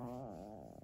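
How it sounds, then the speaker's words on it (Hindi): Pet dog growling and whining for a treat, one close, low, wavering growl that bends in pitch and fades out in under a second, with no talk over it. "देख लो इसकी एक्टिंग कैसे भौंक के दिखा रही है कि ट्रीट दे दो मुझे"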